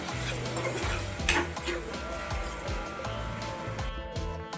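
Tomato pieces for a curry fry in a pan, a dense continuous sizzle with repeated scraping strokes and metallic clinks of a ladle against the pan, close and steady.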